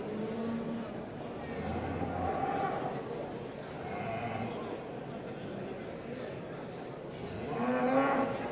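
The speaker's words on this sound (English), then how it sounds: "This next heifer is lot 264." Beef Shorthorn heifer at a show-and-sale judging ring at United Auctions Stirling, mooing in several long, low calls across the clip, the loudest near the end, with crowd chatter and a murmuring voice beneath.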